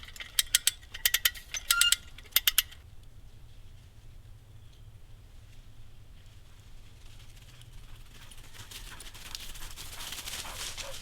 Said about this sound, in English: you put the claw thing from the come along on the other side of the vice grips. Then you ratchet it down,